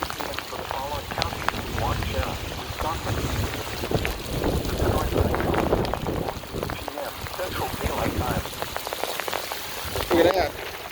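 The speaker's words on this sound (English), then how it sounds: "You can see the rain. Look, the rain." Rain patters steadily on a surface during a severe thunderstorm while wind gusts buffet the microphone, and a voice speaks intermittently over the downpour.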